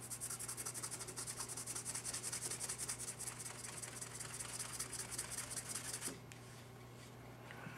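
A rag rubs back and forth over a Taurus PT-92 pistol part during buffing, a close, quiet, rhythmic scratchy friction that continues steadily and then stops, leaving faint room hum.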